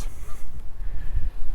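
Geese honk a few times during a city walk in Regina, their calls brief and partly buried under wind rumble and footsteps.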